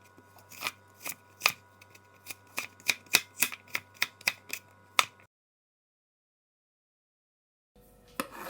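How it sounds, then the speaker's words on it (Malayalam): Knife cutting carrot into long thin strips: a dozen or so crisp, close chops in an uneven but steady rhythm, then silence and a brief clatter at the end. "അപ്പോൾ നമ്മൾക്ക് ഇനി അടുത്തത് ക്യാരറ്റ് കൂടി ഒന്ന് ഇതേപോലെ നീളത്തിൽ കട്ട് ചെയ്തെടുക്കാം."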